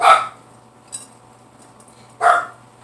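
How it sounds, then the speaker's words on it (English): A pet dog named Lizzie barks indoors at home: two sharp, loud barks about two seconds apart, close by, with a faint clatter between them and no voices. "Sorry about the barking,"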